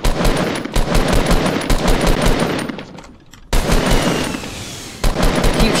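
Fortnite squad match gunfire, dense rapid automatic bursts, loud and close, with a brief lull midway before the firing resumes, with no voices.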